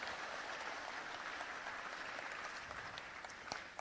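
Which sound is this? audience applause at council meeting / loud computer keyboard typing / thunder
audience applause at council meeting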